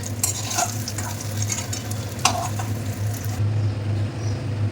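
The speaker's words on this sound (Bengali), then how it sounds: "ওই তেলের মধ্যে আর আদা রসুনের পেস্টটা দিয়ে দিলাম" Ginger garlic paste fries in hot oil, a close, continuous sizzle with stirring scrapes and occasional sharper crackles, heard alone without talk.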